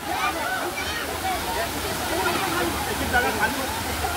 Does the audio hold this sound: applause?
no